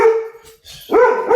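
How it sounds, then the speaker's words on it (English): A dog barks close by in two loud, drawn-out, whining barks separated by a brief pause, with no speech over them. "That's my dog again."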